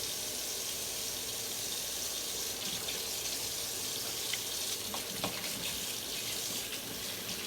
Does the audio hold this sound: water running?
yes